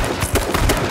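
Revolver gunshots in the survival shooter H1Z1, a few sharp cracks in quick succession against a busy game backdrop.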